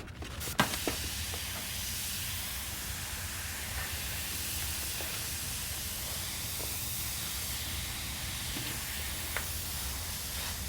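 Airbrush spraying paint over a skull stencil, a steady close hiss of air and atomized paint running continuously, with a few faint clicks and taps.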